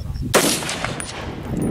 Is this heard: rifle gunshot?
yes